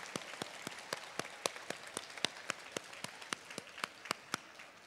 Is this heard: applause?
yes